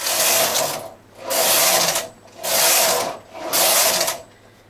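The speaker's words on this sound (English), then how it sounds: "I will knit four rows." Knitting machine carriage swept back and forth across four rows, giving four even whooshing passes of close, loud mechanical rasp with brief gaps between strokes.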